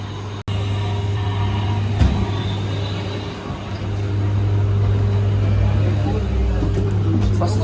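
Low steady hum and rumble of a crowded E400EV electric double-decker bus riding on Route 196, continuous and close, with a brief dropout near the start and a few faint knocks.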